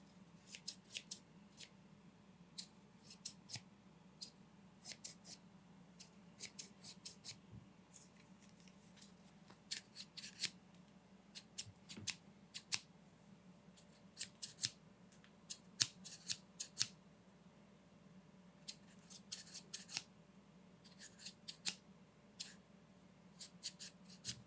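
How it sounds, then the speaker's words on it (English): Scissors snip through hair to trim split ends in a quiet indoor setting, a string of crisp, close metallic cuts coming in quick irregular bursts over a soft, steady background hum. "Let's get to trimming those split ends,"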